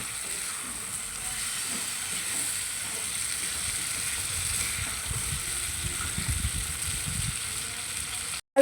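Potatoes frying in a spiced masala for a Bengali crab curry, a steady close sizzle with scraping and stirring clatter from a spatula, no talking, cutting off abruptly at the end.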